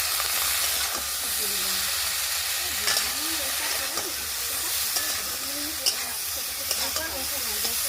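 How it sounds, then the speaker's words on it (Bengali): Pointed gourd frying with shrimp and spices in a pan, a close steady sizzle and hiss with scattered stirring scrapes and clinks throughout. "এই যে পটলটা ভালোভাবে ভেজে নিচ্ছি"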